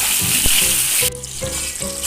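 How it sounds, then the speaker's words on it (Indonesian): Jengkol beans frying in hot oil for a Padang-style balado dish give off a steady, close sizzle, which thins out midway and is broken by a few soft knocks of a spoon or pan. "Lanjut kita goreng jengkolnya."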